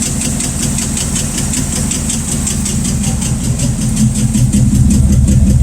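A rat rod car engine runs at a steady idle, loud and close, with a fast, even rhythmic knock and pulse throughout and no voices over it.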